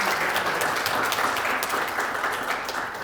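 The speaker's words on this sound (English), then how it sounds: "let's have a round of applause for Lala," Steady, dense applause from an audience at a psychiatry and behavioral sciences department graduation and awards ceremony, sustained for a few seconds at even loudness before tapering slightly.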